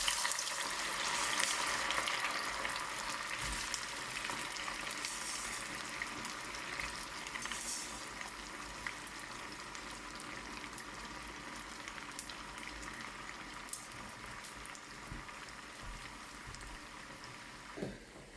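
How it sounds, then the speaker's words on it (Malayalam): Boiled cassava fries in hot oil with a continuous crackling, bubbling sizzle at moderate level that holds steady throughout and has no voices over it. "അപ്പോൾ ഇനി നമുക്ക് ഈ വേവിച്ച കപ്പ ഒന്ന് വറുത്തെടുക്കണം."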